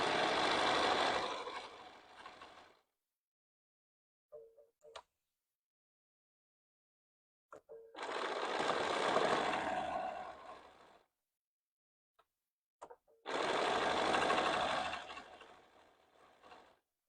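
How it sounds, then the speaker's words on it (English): A sewing machine stitches quilt binding in three separate bursts, each a loud, close, dense mechanical whir of a few seconds. Short pauses with faint clicks fall between them. "I just barely stitch, let my foot come up, rotate it over, and continue stitching so I'm not clipping my threads any"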